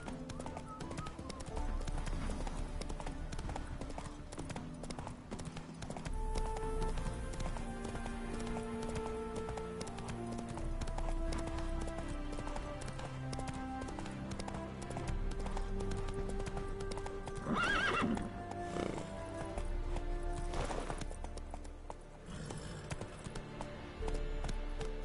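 Roach the horse gallops in The Witcher 3, a steady run of rhythmic hoof clip-clops in the foreground over game music, with a brief whinny-like burst near the end.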